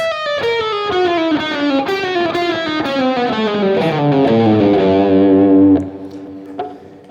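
A distorted electric guitar plays a quick descending chromatic run, notes stepping down steadily before settling on a sustained low tone that cuts off.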